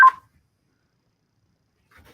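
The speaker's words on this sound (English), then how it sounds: "Unfortunately, my phone is ringing." A phone rings or beeps briefly during a call, one short electronic burst at the start followed by near silence and a faint trace at the end.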